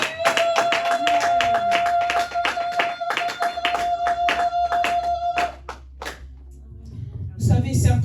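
A church congregation claps in a quick, steady rhythm for the Lord during a worship service, with a sustained keyboard tone beneath. The clapping stops near the end as voices and room noise rise.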